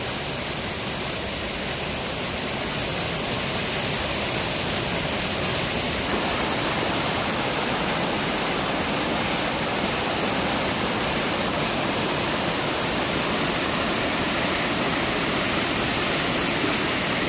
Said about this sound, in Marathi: पूर बघा किती आलाय.